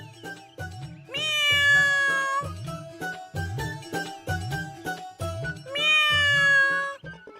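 A cat in a Marathi TV serial scene meows twice in long, loud, drawn-out cries, close to the listener, over steady rhythmic background music with a repeating low beat.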